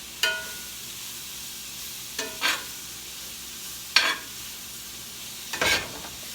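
Meat browning in a pot for a Louisiana-style gravy, a low steady sizzle broken by four short scraping stirs spaced a second or so apart, close and moderately loud with no talking.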